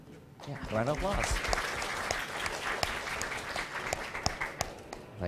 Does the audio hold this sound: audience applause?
yes